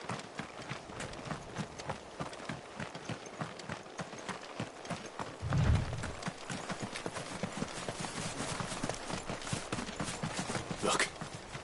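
Horse hooves clip-clop at a steady trotting rhythm in Final Fantasy 16, fairly close and continuous, with a brief low thump midway and a light game soundtrack underneath.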